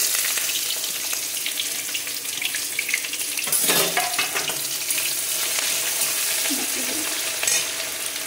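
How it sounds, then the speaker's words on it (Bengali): Garam masala, dry red chillies and bay leaves spluttering in hot oil for a mutton curry, a steady loud sizzle throughout with stirring clatter and brief bursts of crackle midway. "চিনি দিলাম, তারপরে গরম মশলা, শুকনো লঙ্কা, তেজপাতা ফোড়ন দিলাম"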